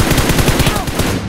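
Rapid automatic gunfire in the PUBG Mobile battle royale game, a loud dense volley of shots in quick succession filling the whole moment, with faint talk mixed underneath.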